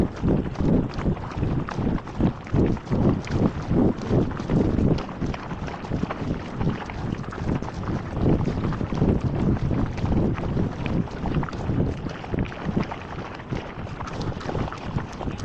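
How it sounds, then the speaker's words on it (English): A paddleboard is paddled on open water, with steady rhythmic strokes and water sloshing mixed into heavy wind buffeting the microphone the whole way through. "So now we're gonna paddle all the way from here to that bridge back there."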